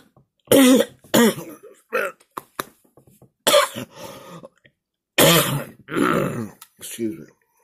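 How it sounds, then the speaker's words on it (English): Several harsh coughs and throat-clearing bursts come in irregular clusters, close and fairly loud, with short silent gaps between them. "Cough that junk out so I can go."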